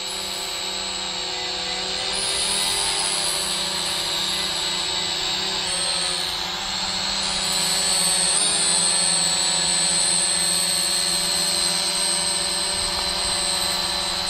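A small brushed-motor toy drone, a Mavic Mini clone S162, whines steadily in a high buzzing hover, holding a constant pitch with slight swells and dips throughout.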